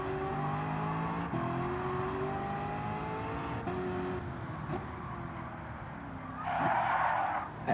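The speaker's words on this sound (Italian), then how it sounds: "la macchina inizia a driftare come se stesse facendo uno sterrato di rally" A 2009 Chevrolet Corvette ZR1 (C6) in Gran Turismo 7 drones with a steady engine note while drifting, then its tires break into a loud squeal near the end, with no talking.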